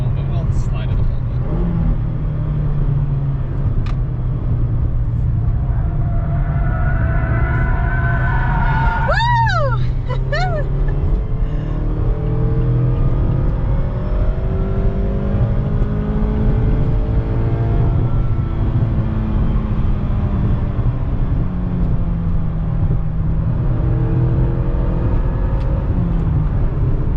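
A 2021 Mazda MX-5 Miata Grand Touring with a limited-slip differential holds a steady, droning engine note through a slide, while tire squeal rises briefly midway and people talk and shout over it.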